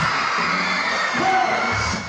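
Loud crowd cheering and shrieking at a town fiesta stage show for a city anniversary celebration in Calaca, steady dense roar throughout with scattered yells and whoops.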